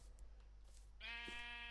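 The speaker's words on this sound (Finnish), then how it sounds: "Lammas. Muistaakseni me jäi vielä ne pari lammasta." A sheep in the Minecraft video game lets out a single clear, wavering bleat that begins partway through and holds to the end, over a steady low background hum.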